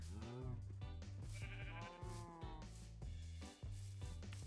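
Sheep bleat over and over in Minecraft, with wavering cries overlapping against a steady low hum, close and clear with no talk.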